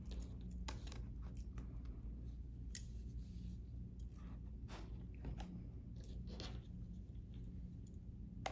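Scissors snip through a strip of quilting fabric for a small mug rug in a series of quiet, close, irregular cuts over low background hum.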